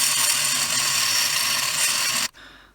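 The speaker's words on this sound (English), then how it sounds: "I think what I'm going to use is my little grinding pen here" A small handheld grinding pen runs steadily against a part from a vintage Entex Pac-Man handheld game, a dense whirring grind held for over two seconds before cutting off abruptly into near silence.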